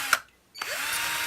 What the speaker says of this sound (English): Now I'm just drilling some access holes here.